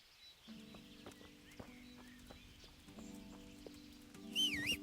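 Hooves clop lightly and irregularly while a low hum continues, and a horse whinnies near the end, in the video game Kingdom Come: Deliverance.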